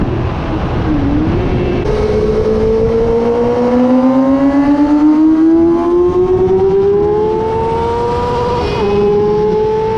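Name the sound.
racing motorcycles on the Dubai Autodrome GP circuit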